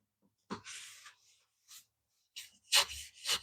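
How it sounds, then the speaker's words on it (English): Cloth wiping excess wood stain off pine produces short rubbing swishes in several separate strokes, close and fairly quiet, with silent pauses between them. "Now let's wipe off this excess."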